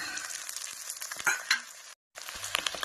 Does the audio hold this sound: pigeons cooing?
no